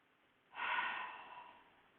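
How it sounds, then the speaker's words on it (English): A single slow, audible breath drawn in during a supported relaxation exercise, close and soft, swelling and then fading away gradually. "and breathe"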